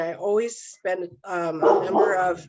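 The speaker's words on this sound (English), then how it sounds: "sorry about the dog" A dog barks in a home while a person keeps talking over it, the barks mixed into the speech across a couple of seconds.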